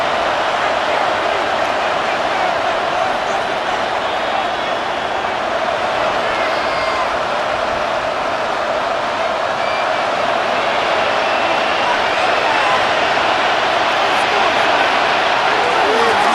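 A dense, steady roar from a large stadium crowd in the football video game Madden NFL 26 fills the whole stretch, with a commentator's voice talking over it.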